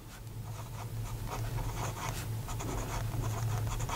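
Parker Duofold Maxima fountain pen with an oblique nib writing on paper in Waterman Mysterious Blue ink, a close, steady scratching of nib strokes over a low background hum.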